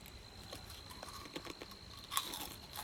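Crunchy Russian rye breadsticks being chewed alongside holodets (meat jelly) and horseradish, giving a run of close, dry crunches and bites spread irregularly over a few seconds with a sharper crunch near the end.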